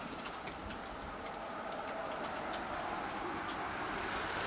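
Steady rain falls through a rainy night, a soft continuous hiss spread evenly across the whole stretch with no voices, with faint bird-like chirps flickering above it.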